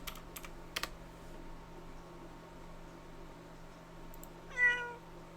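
A cartoonish cat meow sounds once near the end, short and clear, after a few clicks of typing or mouse taps in an otherwise quiet room with a steady low hum.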